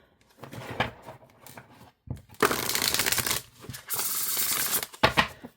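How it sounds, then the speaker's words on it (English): Oracle cards with matte black edges riffled side by side in quick bursts, crisp flutters and snaps close up, separated by short pauses, with no talk over them. "with cards this size, I like shuffling it that way"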